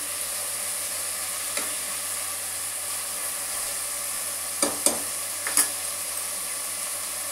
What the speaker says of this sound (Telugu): కొంచెం మంచిగా ఫ్రై కావాలండి.